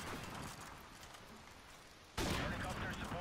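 Sniper gunfire in Call of Duty: Modern Warfare Remastered during a 1v1 sniper match: a loud, sharp broadband blast hits near the end and rings out over a steady background of game ambience.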